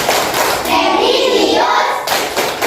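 A school class claps a rhythmic 'Tepuk PPK' chant, with a short burst of hand claps ringing out close and loud and voices chanting along.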